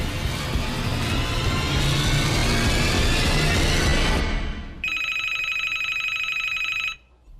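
A telephone rings with a bright, repeated electronic trill that cuts in sharply after a loud, busy stretch of action noise, then stops abruptly near the end.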